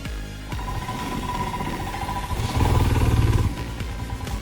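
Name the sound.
Royal Enfield Himalayan motorcycle climbing an incline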